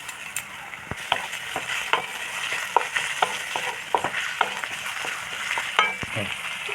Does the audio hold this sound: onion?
yes